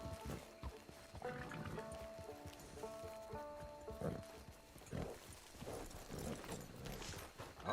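Hooves clip-clop steadily from a horse in the Red Dead Redemption 2 video game, a rhythmic gait running throughout beneath game music tones and brief speech.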